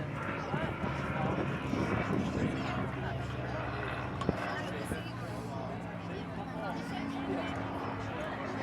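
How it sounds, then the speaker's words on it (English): A Hawker Hurricane flies at the Blackpool airshow, its piston engine a rough, steady drone that holds at moderate distance throughout, with crowd noise and outdoor wind underneath. "he's flying the hurricane that Peter Townsend flew and came second in"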